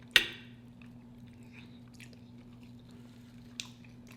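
Fried Indian food gets chewed close to the mic, with a sharp crunch at the start and another brief crunch near the end over quiet background hum.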